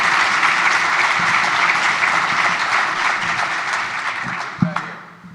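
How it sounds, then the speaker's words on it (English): Audience applause at an insurance boot camp finals event in Atlanta, a dense steady wash of clapping hands from a sizeable crowd, loud throughout and tapering off in the last second. "Let's give her a round of applause"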